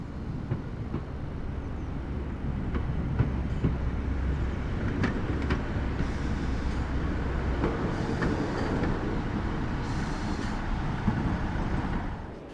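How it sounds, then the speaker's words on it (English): A single diesel railcar runs along the Looe branch line, a steady loud rumble of engine and wheels rolling on continuously with faint rhythmic rail clicks throughout. "A single railcar shuttles between the picturesque coastal town of Loo and the mainline junction at Liskeard"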